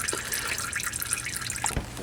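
Engine oil drains from a 1.8-liter Mazda Miata into a pan, a steady liquid trickle with scattered drips running throughout, close and fairly quiet.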